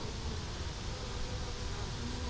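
Honey bees from a swarm buzz around hive frames holding honey, a continuous close, droning hum with a faint whine on top, steady throughout with no talking.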